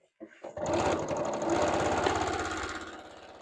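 A sewing machine stitches down both side seams of a qaspeq vest, its steady motor hum and rapid needle chatter running continuously and fairly close after a couple of brief clicks at the start.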